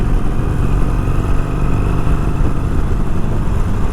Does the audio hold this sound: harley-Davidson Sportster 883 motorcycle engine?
yes